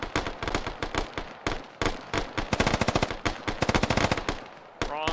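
Machine gun fire from an RPK and a SAW trading bursts in a military shooter game, loud rapid rattling volleys in close succession, with a sharp whine near the end.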